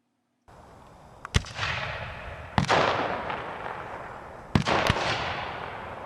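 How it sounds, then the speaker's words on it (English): Civil War cannons fire three heavy booming shots, sharp cracks followed by long rumbling decays, two spaced apart and then a closely paired final blast, with no voices. "The battle might open with some heavy artillery fire to soften up the enemy lines"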